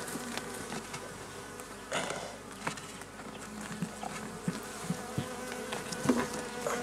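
Honey bees buzz in a dense, continuous drone at a hive as its bottom board is changed for a smaller hive, with faint taps and knocks of handling under the hum.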